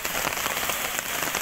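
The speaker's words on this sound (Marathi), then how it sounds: "खूप जोराचा पाऊस येतोय" Heavy rain pours down at the Mahakal temple in Ujjain, a dense, even hiss of drops pattering on hard surfaces, loud and continuous with no voices.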